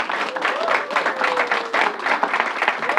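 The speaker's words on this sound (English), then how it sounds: "Let's give the Assembly member another round of applause." An audience at a New York governor's coronavirus briefing applauds an Assembly member, with continuous, evenly textured crowd clapping from start to finish and a voice faintly audible beneath it.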